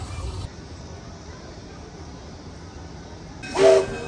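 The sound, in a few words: zoo train passing below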